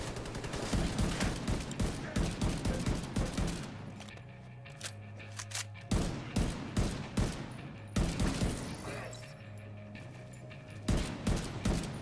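Police rifle gunfire in the video game The Division 2, rapid bursts of sharp automatic shots in several volleys separated by brief pauses, loud and close.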